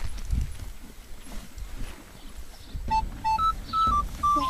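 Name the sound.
horses walking, hooves clip-clopping on a trail ride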